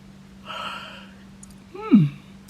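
A close, drawn-out yawn: a breathy intake followed by a voiced, falling groan that trails off, heard alone against a quiet hum.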